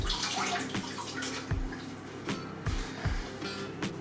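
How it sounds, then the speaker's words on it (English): Hands are washed under a running kitchen tap, with water streaming steadily and splashing, plus several dull knocks and thumps in a rough rhythm, close by and with no speech. "Quickly wash my hands there."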